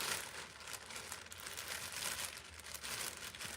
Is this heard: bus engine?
no